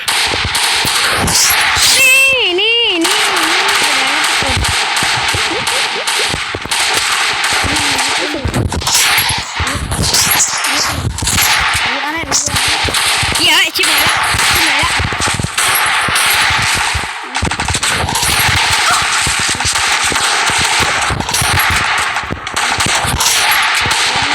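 Gunfire in a video game crackles almost nonstop, dense rapid automatic bursts and sharp single shots layered over each other, loud and busy, with occasional voices underneath.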